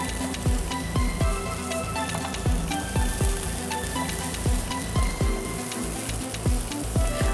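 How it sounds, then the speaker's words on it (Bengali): Papaya zarda with raisins and powdered milk is stirred in a hot pan, a constant sizzle broken by frequent scraping spoon strokes at a steady pace, close up with no voices. "অল্প অল্প করে দিব এবং অল্প অল্প করে নাড়তে হবে।"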